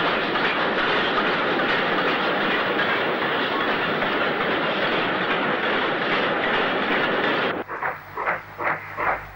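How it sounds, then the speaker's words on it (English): A Black 5 steam locomotive, number 45272, hauling a southbound fitted express freight train in the 1960s, a loud continuous rumble and roar of passing rail traffic that drops away near the end to rhythmic clickety-clack of wheels over rail joints. "the sight of Black 5 45272 southbound with a fitted express freight"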